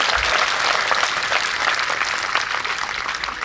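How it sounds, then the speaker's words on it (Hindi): Steady, dense applause from an audience at an awards and felicitation ceremony, loud and continuous throughout with no voices over it. "ताली जोरदार करो, ताली जोरदार करो।"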